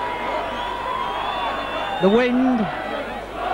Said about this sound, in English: And the crowd, in a sense, are beginning to roar